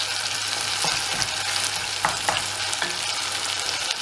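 Onions frying in a pan on full heat with a frozen garlic and ginger cube for a rajma red kidney bean curry, a strong steady sizzle up close, punctuated by a few scraping stirs.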